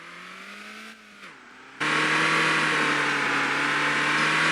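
A car engine in the driving game Motortown whines at a steady pitch, dips briefly, then jumps to a louder, higher revving tone and holds there.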